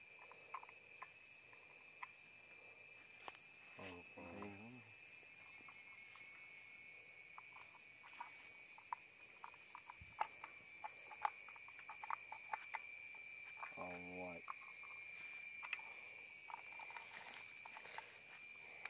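Crickets chirp steadily in a rural outdoor setting where a tiller is under repair, with a constant high insect drone throughout and scattered clicks and knocks nearby.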